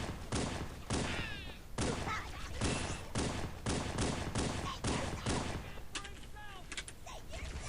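Repeated bursts of gunfire in Halo: Combat Evolved on Legendary difficulty, a rapid string of sharp shots that fills the whole stretch with little pause, with some faint speech mixed in.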